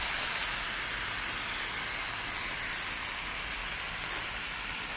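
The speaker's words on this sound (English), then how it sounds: "Flip the patties when the edges get slightly browned." Smash burger patties sizzle loudly and steadily on a hot griddle, a dense, even hiss that fills the whole stretch without talk.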